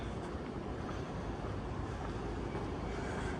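A Yamanote Line train in Tokyo rumbles faintly in the distance, a steady low wash of rail noise with no distinct events.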